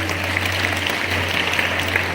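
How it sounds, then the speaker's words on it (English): An audience at a live aero club talk claps in steady, dense applause, moderately loud and close throughout, with a low steady hum underneath. "Give a big round of applause,"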